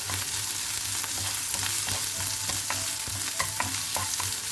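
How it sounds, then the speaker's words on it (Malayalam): Peanut chicken masala is sautéed and stirred in a pan with a constant close sizzle, punctuated by frequent spoon scrapes and taps against the pan. "നന്നായി ഒന്ന് വഴറ്റിയെടുക്കാം"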